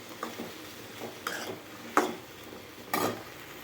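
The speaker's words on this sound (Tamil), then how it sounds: "இதை நல்லா ஃப்ரை பண்ணணும்." Sliced okra stir-frying in oil, a low sizzle broken by a few distinct scraping stirs of a utensil against the pan, each a short bright rasp, about four strokes spaced roughly a second apart.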